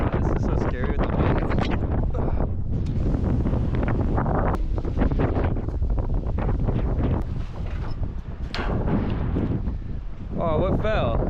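Heavy gusts of high wind batter the microphone in a continuous loud rumble for several seconds, briefly easing before surging again.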